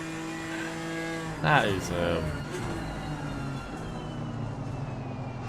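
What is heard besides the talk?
BMW GT4 race car accelerating on straight, Assetto Corsa Competizione video game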